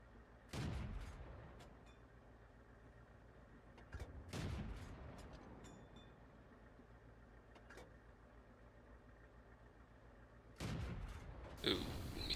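Tank cannon shots in World of Tanks gameplay with the T40 tank destroyer, three heavy booming blasts spaced several seconds apart over a low engine rumble.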